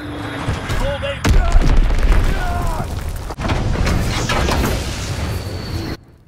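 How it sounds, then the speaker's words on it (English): A bomb explosion in Call of Duty WWII on the Aachen map during a domination match: a sudden heavy boom followed by rumbling battlefield noise and scattered gunfire, with a voice speaking over the din. "Enemy bomb incoming. Get to cover."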